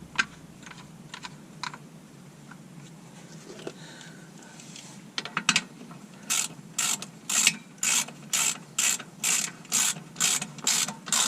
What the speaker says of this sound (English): just go ahead and tighten everything back up